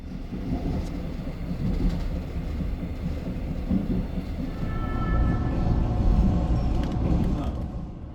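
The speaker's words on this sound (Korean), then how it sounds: "민둥산역을 빠져나온 열차는 강원도 더 깊은 곳인 사북역으로 진입합니다" A train rolls into Sabuk station deep in Gangwon Province, a steady heavy low rumble of wheels and carriages with faint squeals and hum, continuous and fairly loud throughout.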